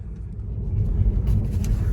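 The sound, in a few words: Tesla Model 3 car driving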